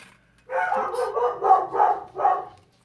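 A pet dog barks several times in quick succession, close and fairly loud, after a brief quiet moment in an indoor beading and craft setting.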